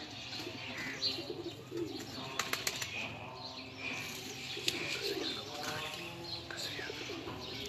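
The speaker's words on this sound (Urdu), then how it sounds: "یہ جا رہے ہیں کبوتر" Wings flutter and beat as Sitamgar Teddy pigeons fly off, a steady rustling flurry with a few sharp flaps and faint bird calls in the background.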